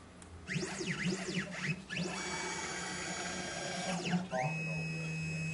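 A 3D Xtreme key cutting machine, new out of the box, runs its cutter calibration: motor whines sweep up and down in quick zigzags as the carriage shifts, then settle into a steady tone under a low hum.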